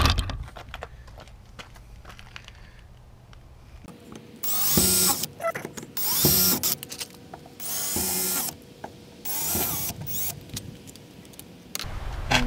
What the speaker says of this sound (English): pre-drill these holes